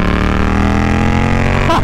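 A Yamaha XSR 700 motorcycle engine drones with a strong, even harmonic tone at low revs, then pulls upward in pitch as it starts to accelerate near the end.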